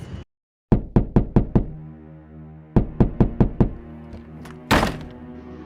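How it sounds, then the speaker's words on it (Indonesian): Loud knocking on a door in a boarding-house room: two bursts of five rapid, heavy knocks each, close and resonant, followed by a sharp bang. "ketukan pintu yang sangat keras."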